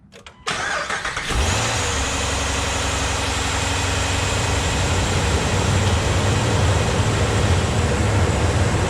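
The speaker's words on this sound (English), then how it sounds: "And it says start the engine." A car engine cranks briefly and catches during a battery starter test, then settles into a steady, loud idle that continues to the end with no talking.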